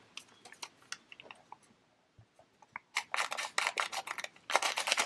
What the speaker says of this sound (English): I'm just going to trim this one edge off